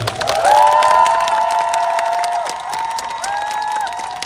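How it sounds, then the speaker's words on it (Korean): Applause and cheering from an audience at a Korean army military band concert fill the space loudly, with a sustained steady tone held above the crowd noise throughout. "여러분 큰 박수 부탁드립니다."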